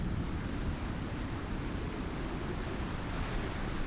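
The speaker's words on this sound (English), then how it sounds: "It's raining." Rain pours steadily in the survival video game Icarus, a dense, even rush of noise with a deep rumbling low end, moderately loud and unbroken throughout, with no voices.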